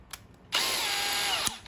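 A cordless electric drill in the 18–22 mm drilling class spins up abruptly, whines steadily at full speed for about a second, then cuts off, with a brief click beforehand and no talking over it.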